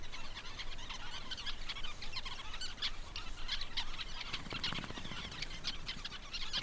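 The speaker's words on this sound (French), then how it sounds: "Le tisserin du Cap mâle commence à façonner son nid." A male Cape weaver bird starting to build its nest in the Sandveld of South Africa, with other Cape weavers giving busy, chattering and buzzing calls in a continuous, fairly faint chorus over a soft background hiss.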